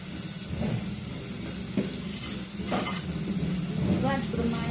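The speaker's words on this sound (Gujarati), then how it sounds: "દસ મિનિટ એને પાકવા દઈએ. સારી રીતે ડુંગળી અને ટમેટું પાકી જાય." Onion and tomato cooking in a pan with turmeric, giving a steady frying sizzle with occasional stirring scrapes and light utensil clinks throughout, moderately loud and close.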